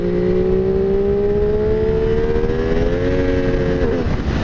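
A 2015 MV Agusta F3 800 motorcycle engine revving loud and close, a rising, steady high-pitched wail that climbs smoothly then wavers and dips near the end, with no voices.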